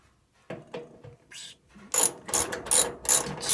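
Screwdriver work on a Frigidaire top-load washing machine: soft scraping and handling noises at first, then a run of close, quick ratcheting clicks as a part is screwed down.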